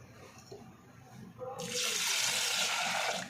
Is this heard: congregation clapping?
no